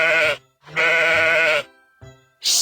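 A sheep bleats twice up close, each a loud, wavering baa about a second long with a short gap between, followed by a brief quieter bleat.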